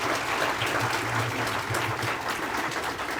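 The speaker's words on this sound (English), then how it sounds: "A round of applause for them," Dense, continuous applause from an audience at a mayoral candidate forum in Folly Beach, a steady wash of many hands clapping at the same level throughout.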